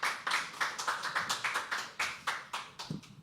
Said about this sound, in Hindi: यार एक बार जोरदार तालियां होनी चाहिए